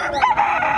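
A rooster crows loud and close amid the bustle of a country-chicken livestock market, a single sustained call filling the short moment.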